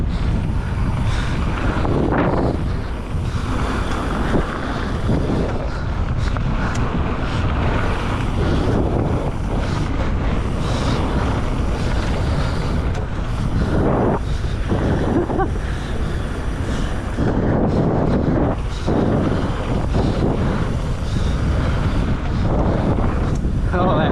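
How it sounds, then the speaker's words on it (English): Strong wind buffets the microphone nonstop while a mountain bike rolls along a green-grade trail in Bentonville, a loud, roaring rush that covers everything, with brief speech from the rider. "Oh, that wind throws me out."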